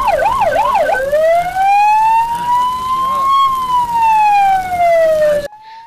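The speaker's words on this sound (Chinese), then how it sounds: "警方从奇美村沿着瑞港公路3路一路鸣笛" A police car siren wails in a loud, continuous sweep, first in fast yelping oscillations, then in a long rising-and-falling tone, close by on a highway during an emergency run, cutting off abruptly near the end.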